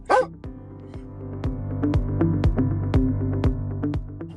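Police canine barking repeatedly, a steady series of loud, close barks at a regular rhythm with a brief whine at the start.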